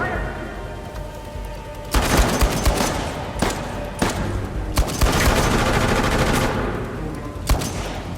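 Heavy automatic gunfire from enemies wielding P90 submachine guns in Uncharted: The Lost Legacy, sustained loud bursts with sharp shot spikes layered over dense battle noise, a voice briefly heard beneath.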